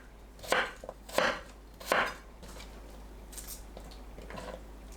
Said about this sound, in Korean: 양파는 한입 크기로 썰고 겹을 떼어냅니다